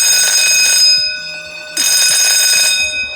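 A loud electronic evacuation alarm in a Penang, Malaysia building rings continuously with harsh, high tones, briefly dropping in level mid-clip before blaring again at full strength.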